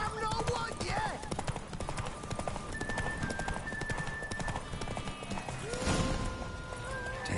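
Horse hooves clip-clopping at a quick, rhythmic gallop in the video game The Witcher 3: Wild Hunt, with in-game voices talking over the steady hoofbeats.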